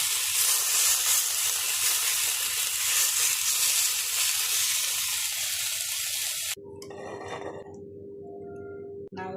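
Fish fries in a pan with a loud, steady hissing sizzle that stops abruptly, leaving quieter kitchen noise and a faint tonal hum afterward.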